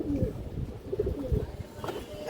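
Pigeons at a pigeon farm give low, throaty coos in a brief, continuous murmur heard up close.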